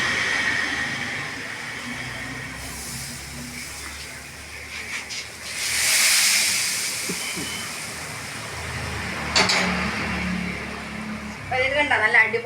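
Hot tempering poured into mango pulissery curry sets off a sudden loud hiss and crackle that swells mid-clip and fades, with a second sharp sizzle later and a voice talking at the end.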